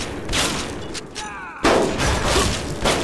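A sudden explosion bursts out in a video game midway through, following scattered game sounds and small mechanical clicks.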